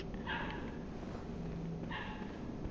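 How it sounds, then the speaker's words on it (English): Dog barking in the game Bloodborne, two short bursts of barks with a gap between them, medium distance, over a steady ambient background. "Oh, you're a doggy."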